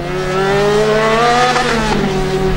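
A Formula Student race car in a 2009 endurance event threads through the final slalom, its engine a loud, continuous high whine that rises and dips in pitch as it changes speed, with no other sound.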